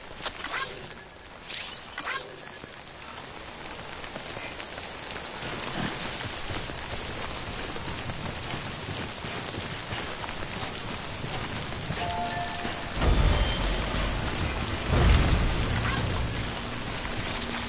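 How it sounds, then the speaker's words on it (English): Timefall rain falling in the video game Death Stranding, a steady hiss of rain on surfaces with scattered louder splashes and knocks, lasting the whole stretch without speech. "Don't stay out in the rain any longer than you have to."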